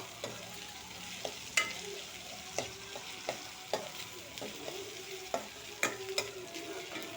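Goat blood fry being sautéed with curry leaves in a pan, with a steady low sizzle and repeated sharp scrapes and clinks of a spatula stirring through it.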